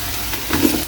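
Potatoes hit a pan for squid curry with a short, close sizzle and a few stirring scrapes, lasting about a second, with no one speaking.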